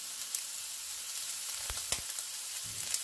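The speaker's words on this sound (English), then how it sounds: "After a little sauteing, I'll add some onions." Snake gourd sautéing in a pan gives a steady soft sizzle, with a few brief louder crackles and utensil scrapes breaking through.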